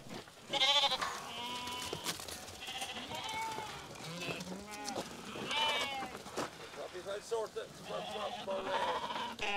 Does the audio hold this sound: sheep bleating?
yes